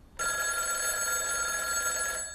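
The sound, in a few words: telephone ringing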